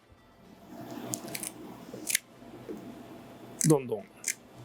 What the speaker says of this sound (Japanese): こういうハサミ、これでこのヒラメのヒレですね、これを